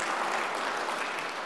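A church congregation applauds a newly married couple, a steady dense wash of clapping heard alone without talk.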